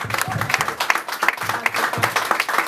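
A church congregation claps and applauds in a brisk, uneven burst, close and loud, with voices mixed into the clapping.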